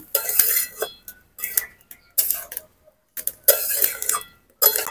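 Banana stem is mixed with fried potatoes and spices in a cooking pot, giving short bursts of utensil scrapes and clinks. The bursts come in an uneven rhythm, close up and separated by quiet gaps.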